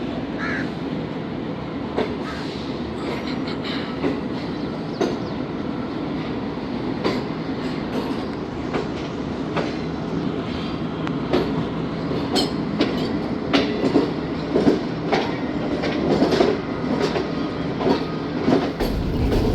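The New Shalimar Express rumbles along the rails with a steady clickety-clack, a loud continuous rolling clatter, while crows caw sharply now and then.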